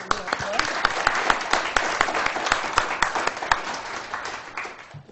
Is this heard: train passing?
no